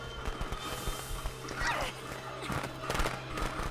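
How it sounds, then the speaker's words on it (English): Fireworks going off in Friday the 13th: The Game, a string of sharp pops and crackles with a whooshing burst in the middle, fairly close over a low background hum. "Wasted your fireworks."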